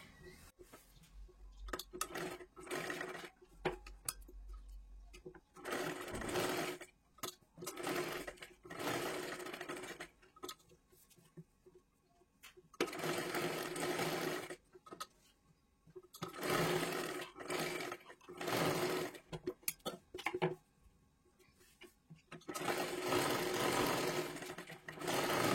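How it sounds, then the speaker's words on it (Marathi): A sewing machine stitches the neckline of a four-tuck blouse in repeated bursts of loud, rapid whirring, each run lasting a few seconds and separated by short quiet pauses, heard close up. "पूर्ण सर्वात आधी आपल्याला शिलाई करून घ्यायचं आहे"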